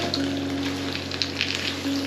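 Alfredo sauce and spaghetti stirred together in a hot pan, giving a steady close sizzle with a few soft scraping touches, no talking.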